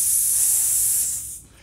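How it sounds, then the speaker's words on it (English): A keg coupler's relief valve being pulled lets out a loud, close hiss of escaping pressure that holds steady for about a second, then quickly dies away. "pull the relief valve on your coupler to release any excess pressure inside the keg"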